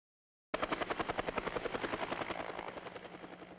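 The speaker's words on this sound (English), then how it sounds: "an all-air attack on the Martin Fire in Bonnie Doon as a helicopter picks up water in a small pond and drops it" A firefighting helicopter works the Martin Fire in Bonnie Doon, scooping water from a small pond to drop on the flames. Its loud, steady rotor thump starts abruptly after a brief silence and pulses in a fast, even rhythm throughout.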